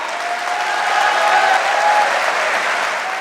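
Broad, sustained audience applause fills a large hall, a dense even roar of many hands clapping at once, steady and fairly loud with faint tonal sounds underneath and no speech.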